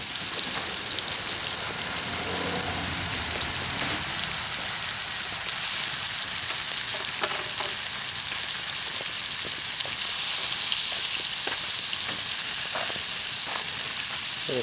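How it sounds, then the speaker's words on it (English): Sliced mushrooms sizzle in butter in a pan over hot campfire coals, a loud steady frying hiss with faint crackles throughout and no talk. "Now we got some mushrooms sliced up, thrown in the butter on the hot coals here, hot fire."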